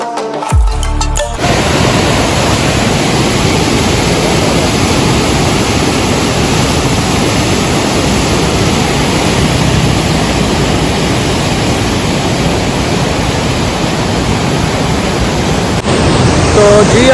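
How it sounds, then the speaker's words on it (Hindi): River water rushes fast through the Head Baloki barrage, a loud, dense, steady roar of churning water close by that fills the scene without pause. "बहुत ज़्यादा तेज़ आवाज़ आ रही है पानी की।"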